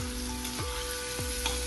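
Carrots frying in oil for carrot pachadi, a steady dense sizzle with occasional stirring scrapes, close and continuous with no talking.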